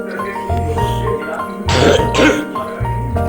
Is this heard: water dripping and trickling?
no